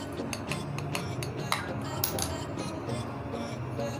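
Black pepper, salt and chili flakes are mixed together in a small bowl, with rapid light clinks and scrapes of a utensil against the dish, close and fairly quiet.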